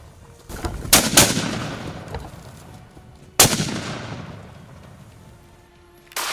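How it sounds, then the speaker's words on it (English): Gunshots in a wild buffalo hunt: two sharp reports close together, then a single loud shot a couple of seconds later, each trailing off in a long echo, with faint bird calls in the open background. "In a split second, precise shots rang out"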